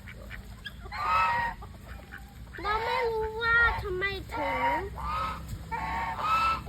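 Geese and ducks at a zoo honk and quack repeatedly nearby, several loud calls overlapping, with people talking over the birds.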